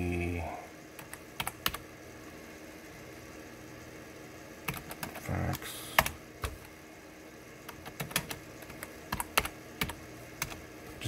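Slow, one-handed typing on a computer keyboard while entering copy commands: scattered key clicks and taps in irregular bursts with pauses between, close and distinct over a low background hum.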